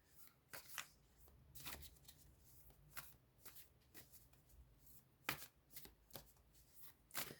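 Soft, quiet riffling of a Mystical Shaman Oracle card deck being shuffled, with several brisk bursts of card flutter spaced irregularly and no talking.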